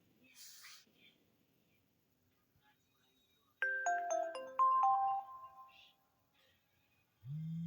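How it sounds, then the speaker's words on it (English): Phone shutdown chime: a short, faint, bright melodic sequence of a few descending tones, close by, with small handling noises before and a low hum after. "The shutdown sound started a little early."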